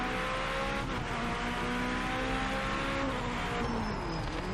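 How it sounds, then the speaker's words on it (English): Race car engine in the video game Project Motor Racing roars continuously at high revs, loud and close, with shifting pitch as it accelerates, no talking over it. "Also, the sound of the car sounds really good too."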